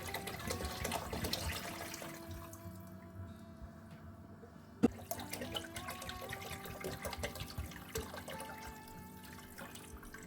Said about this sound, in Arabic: غنضيف الماء سخون. انا كنعمر الطنجره حتى الخل ديالها.